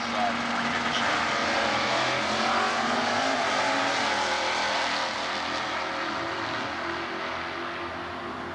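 Stock eliminator drag race cars, a 327 Chevrolet against a 350 Chevrolet at an NHRA meet in Atlanta, roar at length as a steady, loud engine drone that fades slightly toward the end, with an announcer talking over it.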